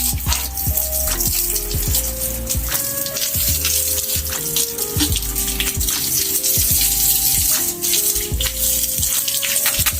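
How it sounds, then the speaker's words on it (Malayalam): Water sprayed from a hose pipe onto the muddy sides of a small backyard DIY fish pond, a steady rushing splash with scattered spattering drops continuing throughout at close range. "ആദ്യം നമുക്ക് ഇത് ഈ സൈഡൊക്കെ ഒന്ന് വെള്ളം അടിച്ചെടുക്കാം, എന്നാൽ ആ ചളി അവിടെ നിന്ന് പോകും"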